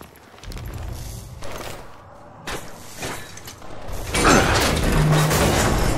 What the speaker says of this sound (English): Let's get these doors open.